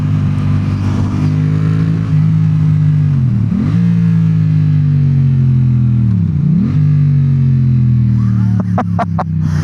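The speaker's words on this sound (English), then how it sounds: "It just revs up so nice." Yamaha XSR700 crossplane twin motorcycle fitted with an aftermarket exhaust, revving loudly and close by with a deep, bassy note, rising and falling through two or three throttle blips, with a few sharp pops near the end.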